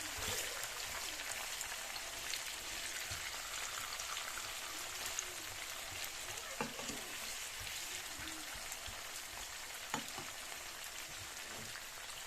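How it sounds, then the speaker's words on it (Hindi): Onions fry in oil over a high flame. The sizzle is a steady, dense crackle with occasional sharper pops, and a voice speaks faintly beneath it. "प्याज को आपने थोड़ी देर ऑयल में ब्राउन किया।"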